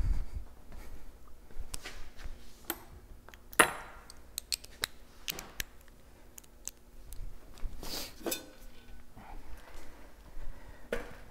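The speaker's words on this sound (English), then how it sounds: "So I'm gonna stick my turbo clamp loosely on the outlet there." A turbo clamp is fitted loosely onto the turbo outlet during a 1FZ-FE turbo kit install, with quiet metallic clicks, taps and scrapes scattered irregularly over a low hum.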